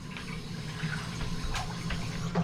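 Cold water rushes steadily from an opened valve during a fan coil unit service call, a continuous hissing flow with faint clinks underneath, no talk.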